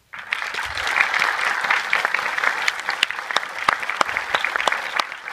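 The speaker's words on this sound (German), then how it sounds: "würde ich euch bitten, einen ganz, ganz großen Applaus für den Regisseur" Audience applause at a film festival screening welcoming the director of the film 13 Sins, steady dense clapping lasting throughout with a few sharper individual claps standing out.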